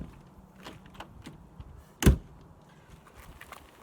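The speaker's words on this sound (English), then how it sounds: "And now the door closes." A door that has been raised with shims swings shut with a single sharp thud midway, with faint handling noises before and after.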